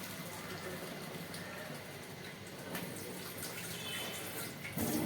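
Water drained from cooked rice rushes steadily into a sink, a continuous splashing wash of sound with a brief louder gush at the end.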